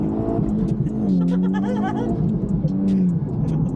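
Volkswagen Scirocco R with a Stage 1 tune and manual gearbox, spinning its wheels as the engine revs hard, a steady loud close engine drone with shifting pitch throughout.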